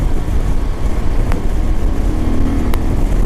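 A Kawasaki Vulcan 750 motorcycle cruising on a highway at about 65 mph and 4,500 RPM, giving a steady loud engine drone mixed with wind rush, with a couple of brief higher tones passing.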